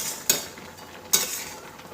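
Vegetables boiling in a covered pot are stirred with a utensil, giving two sharp clinks against the pot over a soft steady bubbling hiss, with no talking.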